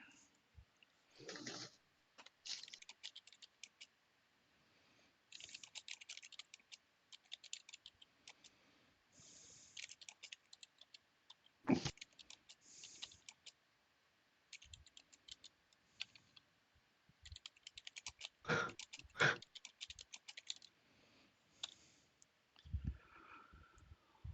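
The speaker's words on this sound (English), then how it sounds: "I'm going to go ahead and I'm typing in the chat real quick." Quick bursts of computer keyboard typing during an online tabletop roleplaying session, clustered clicks in short runs with pauses, fairly quiet and close, with some speech between the bursts.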